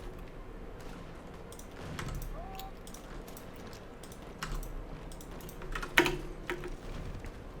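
Computer keyboard and mouse clicks while playing Hearts of Iron IV, light scattered taps at a quiet level with one sharper louder click near the end.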